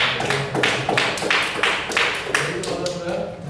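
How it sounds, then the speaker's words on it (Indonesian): Classroom applause for a student group during a microteaching lesson, a short burst of claps with rhythmic sharp hits, close and moderately loud, then tapering off near the end. "Kita kasih tepuk tangan buat kelompok 1."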